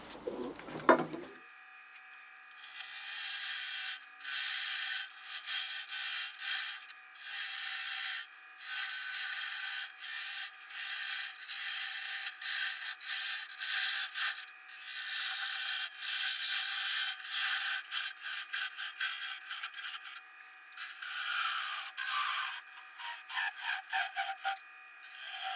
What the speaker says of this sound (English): So we'll just cut them through now.